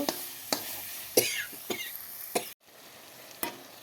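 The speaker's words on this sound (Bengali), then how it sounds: "এইভাবে মশলাটাকে ভালো করে কষিয়ে তারপর মাছগুলোকে ঢেলে দেব।" Masala is stir-fried in a pan for a katla fish curry, with sharp spatula scrapes and knocks at irregular intervals over a soft sizzle, close and fairly loud.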